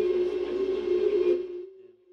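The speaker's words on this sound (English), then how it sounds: "That's some beautiful distortion too." A distortion effect on audio during a live stream: a single sustained buzzing tone with gritty harmonics holds for over a second, then fades away to near silence.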